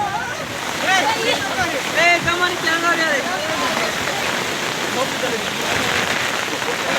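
Floodwater after torrential rain in the village of Aural rushes in a continuous broad roar, while someone talks loudly close by throughout.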